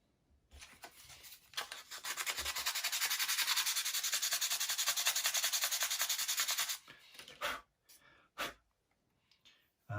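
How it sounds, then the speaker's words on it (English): Rough, rhythmic rubbing of sandpaper on small wooden toothpicks from a UGears Heavy Boy Truck VM-03 wooden mechanical model kit, a continuous close scraping run of a few seconds followed by a few brief separate strokes. "we need to sand a little bit these two toothpicks and sand the surface next"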